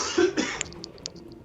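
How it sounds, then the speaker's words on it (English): One short cough, then a second smaller one, close to the mic during casual Ratchet & Clank gameplay commentary, followed by a few faint clicks in near silence. "Excuse me, I have to cough."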